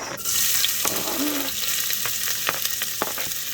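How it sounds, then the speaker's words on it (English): Onions sauté in a thin layer of oil in a pan for Nigerian jollof rice, making a loud, steady sizzle close up, with a few sharp spatula scrapes and taps across it. "we're gonna saute our onions"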